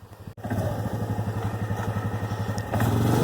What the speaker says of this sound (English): The four-wheeler worked great to, he's kind of on a pile there, to pull this panel, a couple panels over out of the brome.